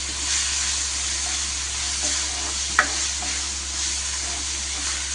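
Okra frying in a pan with onion, tomato, green chilli and turmeric, a steady close sizzle running throughout, with one brief clink of a spoon stirring partway through.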